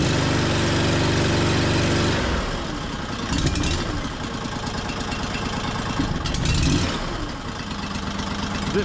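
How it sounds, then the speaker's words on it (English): A double drum roller's diesel engine runs loud and close, first a steady low drone, then settling into a lower, rougher idle with a chugging pulse and a couple of brief revs or clanks. "Is it me or is that idle a lot lower than it did before?"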